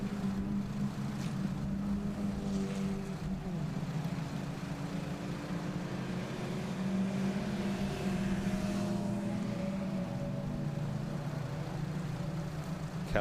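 Ford Fiesta ZTech race cars climb a long uphill stretch in third gear, a steady droning engine note that rises and shifts in pitch as the cars pass, with no speech.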